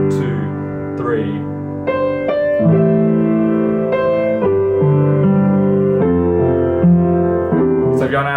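Solo piano plays the chorus of a song in a tutorial, with close, moderately loud sustained chords and a walking bass line. A brief voice is heard at the start and end.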